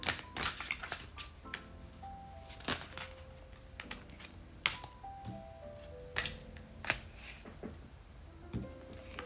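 Cards being shuffled and handled for a tarot-style reading, a steady run of light papery flicks and snaps, close and moderately quiet, with no voices.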